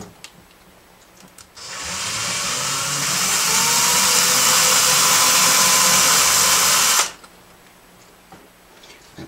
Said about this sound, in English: I only need to drill the end of that off